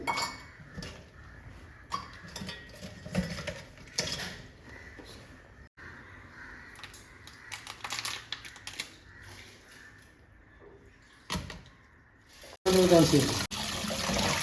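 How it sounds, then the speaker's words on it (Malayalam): Water splashes and sloshes in a container as crab pieces are rinsed, with clinks of utensils and handling noises, ending in a louder burst of running water. "ഇനി നല്ലപോലെ നാലോ അഞ്ചോ വെള്ളത്തിൽ ഇത് കഴുകുക കഴുകി വൃത്തിയാക്കുക"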